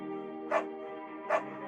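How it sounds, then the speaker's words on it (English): Two short, close yelps from Bucket, a beagle in the Firewatch video game, spaced under a second apart over a steady tonal music bed. "You pick up the beagle and she names him Bucket."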